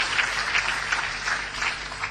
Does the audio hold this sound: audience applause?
yes